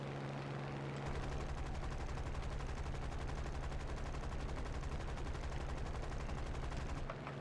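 Aircraft machine guns fire in a flight combat video game, a steady rapid burst of rattling shots over a droning engine hum that runs for several seconds and then stops, loud and continuous without speech.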